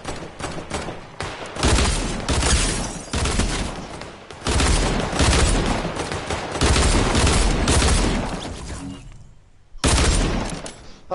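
Rapid gunfire from a video game shootout, loud and dense bursts of shots repeating across most of the span with a brief lull near the end, a voice faintly mixed in.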